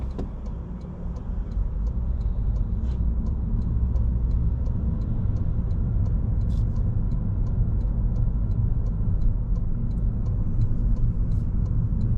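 A car drives in slow road traffic near Dunkettle, a steady low rumble of engine and tyres from inside the vehicle with faint regular ticking, continuous and with no talking.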